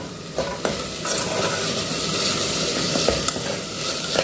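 Minced meat frying with onions in a pan, stirred steadily, giving a continuous loud sizzle with occasional scraping clicks, close up and with no talk.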